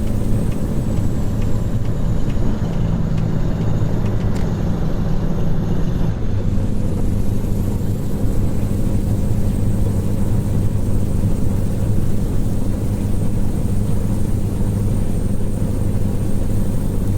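A Mack Superliner truck engine in American Truck Simulator idles low and heavy at about 1,600 RPM, a steady labored bogging rumble that drones on without revving, alone and close.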